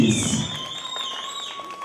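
A small club audience briefly cheering for Ava's birthday at a live show, a quick burst of crowd noise with high whistle-like tones that settles into a thin ongoing hum.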